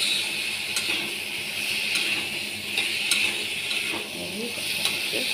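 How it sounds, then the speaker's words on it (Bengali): Elephant foot yam and potato sautéing in a spice paste with lightly crushed garlic and no onion, giving a steady close sizzle broken by repeated stirring scrapes and light utensil clicks against the pan. "এবার এই মশলাতে এই ওল আর আলুটা কষা হবে।"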